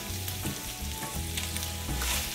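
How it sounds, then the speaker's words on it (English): Butter melts and sizzles in a pan with hot browned sausage and onions at the start of a roux for sausage gravy, a steady close frying hiss with faint scraping stirs. "we're gonna throw a little bit of butter in the pan and this is going to be the beginnings of making a roux"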